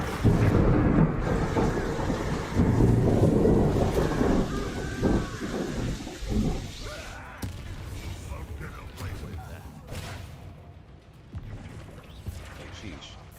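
Stormy weather in a video game, a steady wash of rain and wind with low rumbling thunder, loudest early and slowly easing, with scattered sharper effects layered over it.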